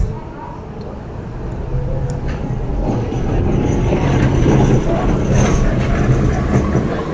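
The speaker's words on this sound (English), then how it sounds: "That is a beautiful tram. I think it's about to set off now." A Blackpool heritage tram on the promenade rumbles as it sets off, a loud steady rolling drone with faint clicks, people talking nearby.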